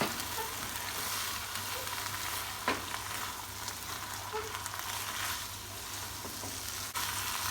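Fried noodles with sliced chili and spring onion are stirred in a hot pan. The oil sizzles in a constant crackling hiss, with occasional scrapes and knocks of the utensil, close up and without speech.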